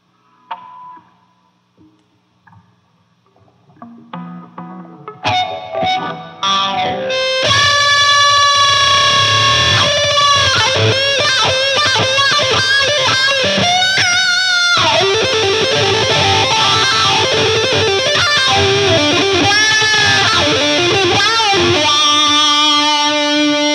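Distorted electric guitar through an Orange OR15 amp head, starting with sparse picked notes and building after a few seconds into loud, sustained, continuous chords and riffs with effects, played alone.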